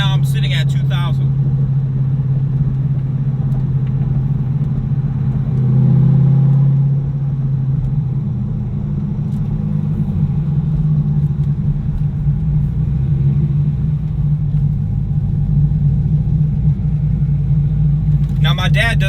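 A 600 hp C5 Corvette Z06 cruising at around 2,000 RPM, under 3,000, gives a steady deep engine rumble from inside the car, loud and continuous with a slight swell midway.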